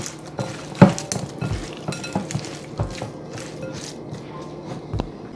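A spoon stirs BADIA Complete seasoning and curry powder together in a bowl or pot for Jamaican curry shrimp, making repeated scraping and clinking taps against the dish, close and moderately loud with no talking.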